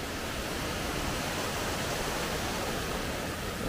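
Heavy rain pours steadily while a vehicle drives through tea estates near Ooty, a dense unbroken wash of noise at constant loudness with no talking.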